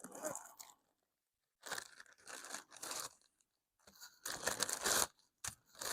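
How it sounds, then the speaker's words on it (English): A bag of Daughters and Ryan Ryback pipe tobacco being opened, with bursts of crinkly plastic tearing and crunching in several separate spells broken by short silences, close by. "Now we'll open this bag up"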